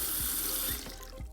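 Water runs steadily from a shower tap, a dense continuous hiss with faint low thumps, close and loud, with no voices.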